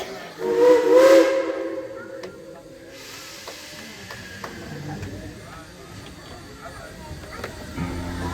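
A steam whistle sounds on a Tweetsie Railroad heritage train during a Fourth of July ride, one loud hissing blast near the start, followed by a quieter hiss and chatter in the background.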